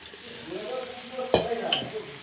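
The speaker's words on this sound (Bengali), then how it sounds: "এইখানে আমি ঘুগনিটাকে ঢেলে দেবো" Ghugni, a spiced pea curry, is poured into a hot pan and sizzles steadily, with a louder splash and clatter partway through as it lands and gets stirred, no talking.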